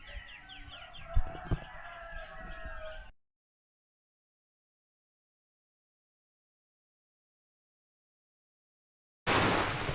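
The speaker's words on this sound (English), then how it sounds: "you can see the whole village here and hear the cockerels going" Cockerels crow at dawn in a village in Bali, a few strained calls mixed with clucking and other birds, moderately near, for about three seconds before dead silence, then a burst of outdoor noise at the end.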